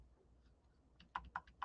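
Faint, nearby keystrokes on a computer keyboard, a few quiet taps followed by a short burst of distinct clicks in an otherwise quiet room.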